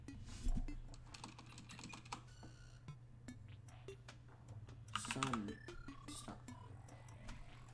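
Computer keyboard keys clack in quick irregular bursts while playing modded Terraria, close and fairly quiet, with a brief electronic game tone partway through.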